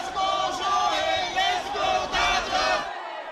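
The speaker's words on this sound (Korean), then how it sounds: "오타니 쇼헤이가 가장 먼저 입국장에 등장하자 팬들의 함성이 쏟아집니다." Fans in an airport arrival hall cheer and shriek as baseball star Shohei Ohtani appears, a loud, surging crowd roar of high-pitched voices swelling in waves before cutting off abruptly at the end.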